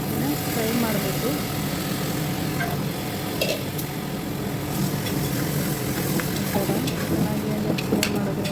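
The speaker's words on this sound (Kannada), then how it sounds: "ಈಗ ಅಕ್ಕಿನ ಹಾಕಿ ಸ್ವಲ್ಪ ಚೆನ್ನಾಗಿ ಎಣ್ಣೆಯಲ್ಲಿ ಅಕ್ಕಿನ ಫ್ರೈ ಮಾಡಬೇಕು." Soaked rice frying in oil in a pan, a steady dense sizzle with occasional stirring scrapes running throughout.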